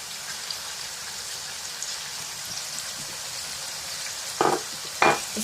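Chicken tikka masala with onions and garlic paste fries in a pan, a steady close sizzle and crackle broken near the end by two louder scraping stirs.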